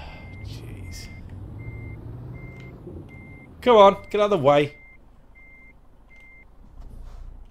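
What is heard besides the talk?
truck reversing beeps in a trucking video game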